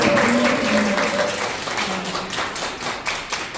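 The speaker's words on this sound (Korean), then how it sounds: "여러분 박수 한번 쳐" Scattered audience clapping at a Daegu dialect poetry recital in a café, starting fuller and thinning out over a few seconds, with a brief voice at the start.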